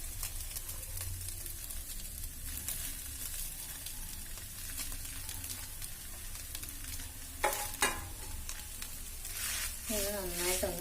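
Boiled potato is stirred into a frying pan, giving a soft steady sizzle with scraping spatula strokes, a couple of louder knocks against the pan partway through, and a brief voice near the end.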